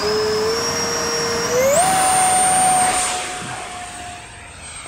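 A 3D-printed J-10 RC model jet flies past, its loud, steady turbine-like whine rising sharply in pitch partway through, holding high, then easing off as it recedes.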